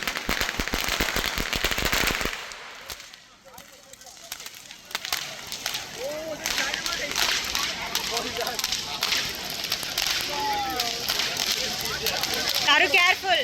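Firecrackers pop and crackle in bursts at a Deepavali celebration in Malaysia, some sharp and close, with people chattering and calling out throughout.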